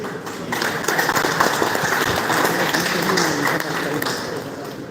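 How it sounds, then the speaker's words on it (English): Applause from the audience at a community meeting welcoming guests to a newly opened centre, a steady dense patter of many hands clapping for about five seconds, with faint voices mixed in. "I think another round of applause,"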